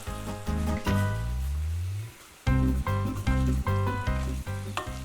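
Smoked pork belly cut into lardons sizzles steadily in a frying pan over low heat, a continuous hiss running under a rhythmic, tonal music track.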